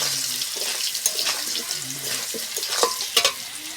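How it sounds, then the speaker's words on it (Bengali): Potatoes fry in fish oil with a continuous hiss and crackle, up close and fairly loud, with scattered scraping and clinks from a spatula. "মাছের আলুগুলো ভেজে লাল লাল করে ভেজে কিন্তু নামিয়ে নেব।"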